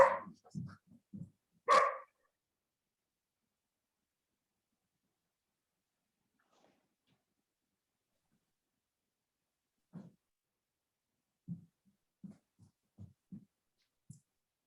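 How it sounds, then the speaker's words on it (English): A pet dog barks in a home, a few sharp barks at the start, then quieter scattered barks later with silence between. "my dog is barking here"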